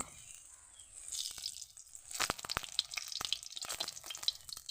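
Sesbania flower fritters fry in hot oil, a sizzle that swells after a quiet start into busy crackling with sharp spits and pops. No voices are heard.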